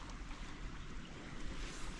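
Storm water rushing over a built-up bank after a storm, a steady broadband wash with low rumbling turbulence and some wind noise on the microphone, continuous and fairly close, with no talking.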